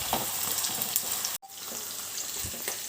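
Onions deep frying in hot oil for a chicken pot biryani, a steady dense crackling sizzle close by. The sound drops out for a moment, then carries on just as loud.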